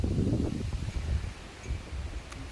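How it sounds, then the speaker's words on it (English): Gusty wind buffets the microphone with low rumbling bursts, strongest at the start and easing off, with a faint rustle in the background. "It's a bit windy."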